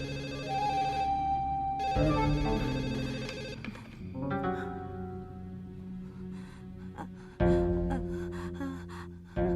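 Telephone ringing in an Indonesian TV drama: repeated electronic ring tones that come in bursts between pauses, fairly quiet, with dramatic background music.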